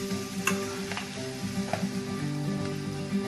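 Masala with chilli powder frying in a pan for pasta, a continuous close sizzle with scattered clicks and scrapes as it is stirred, no talking.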